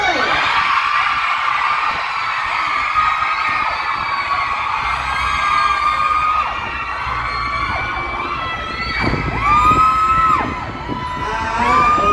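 A large crowd of fans screams and shrieks loudly and continuously at a pop group event, high-pitched voices rising and falling together, fairly close.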